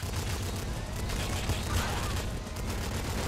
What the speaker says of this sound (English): For now we've just got two heavy machine guns.